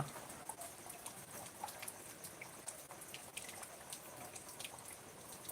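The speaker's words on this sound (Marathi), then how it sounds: "आमच्याकडे पाऊस चालू आहे" Soft, steady patter of morning rain falling, with scattered drips and taps on surfaces, fairly quiet and continuous with no voices.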